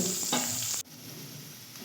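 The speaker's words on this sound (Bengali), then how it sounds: "সুন্দর করে ভেজে নেব হালকা আঁচে" Food sizzles in a pan on low heat with a steady hiss; the sizzle drops abruptly to a softer, quieter crackle partway through.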